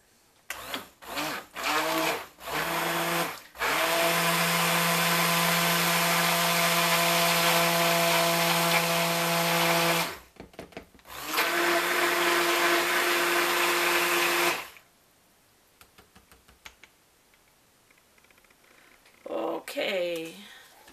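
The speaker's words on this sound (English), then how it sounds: "I don't know if my stick blender will work in this little cup" A stick blender whirs through soap batter in a small cup, running in a steady loud stretch from about 3.5 to 10 seconds and again from 11 to 14.5 seconds, with short bursts before, soft clicks and handling noise after.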